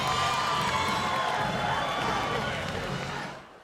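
A broad, loud crowd roar and cheering fills the arena at a PFL women's MMA fight, steady then fading out at the end, with a commentator's voice underneath.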